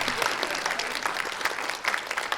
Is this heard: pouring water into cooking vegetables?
no